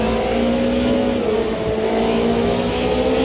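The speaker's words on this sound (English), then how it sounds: "Now we're redlining in 5th gear." A race car engine from the Automobilista 2 game drones loud and constant near redline, a high, steady tone with slight pitch shifts as gears change, without talk.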